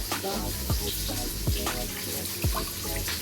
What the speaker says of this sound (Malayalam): അതേപോലെ തന്നെ ഒരു കപ്പ് വെള്ളം ഇവിടെ എടുക്കുന്നുണ്ട് കേട്ടോ